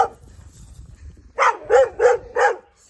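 A dog barks four times in a steady run at a passing runner on a sunny road, sharp loud close barks following a stretch of quieter background noise.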